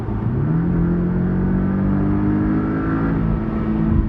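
Porsche 718 Cayman S engine revving in 4th gear with the exhaust open, a loud close sustained drone whose pitch climbs steadily as it accelerates, heard from inside the car without voices.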